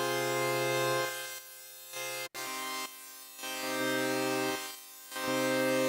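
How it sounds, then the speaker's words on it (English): A sustained synth tone in Arturia Pigments whose low end repeatedly drops away and returns as a high-pass filter is swept back and forth, with a brief click midway. "the high pass filter, again, cuts off the lower frequencies."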